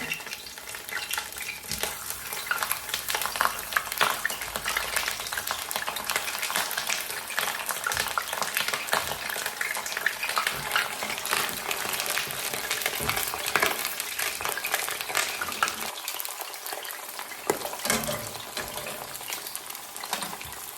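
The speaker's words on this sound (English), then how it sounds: "the oil will cool down as I put more of these artichokes in there" Homegrown artichokes fry in hot oil, a steady crackling sizzle that holds for the full stretch, close and fairly loud, with occasional stirring clatter and a brief lull late on.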